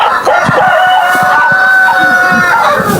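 A Kienyeji improved rooster held in the hands on a poultry farm clucks and squawks loudly and repeatedly at close range, in agitated bursts, with faint voices underneath.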